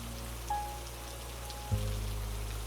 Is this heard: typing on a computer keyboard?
no